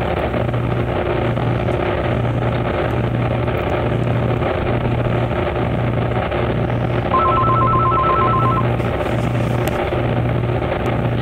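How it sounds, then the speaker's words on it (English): A telephone rings in regular repeated bursts over loud, constant rail-yard engine rumble at Amtrak's Sunnyside Yard, with a brief extra electronic tone partway through. "Incoming phone call."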